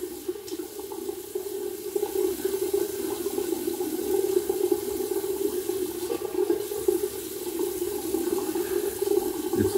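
A tap runs steadily into a sink while a face is wetted before shaving, a continuous close splashing flow that holds throughout with small variations.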